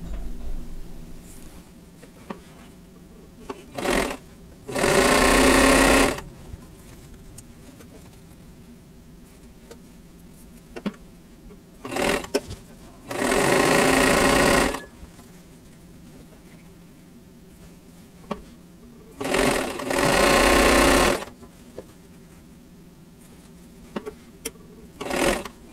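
A sewing machine stitches a quilt block in three short bursts of about a second each, spaced well apart and close by, with faint handling noises and quiet room sound between them.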